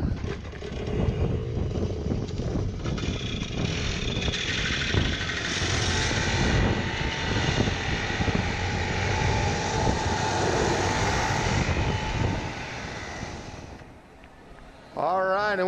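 A loud, sustained roar of several racing kart engines at a Formula Karting championship main event fills the air, with voices mixed in beneath it, then cuts out near the end.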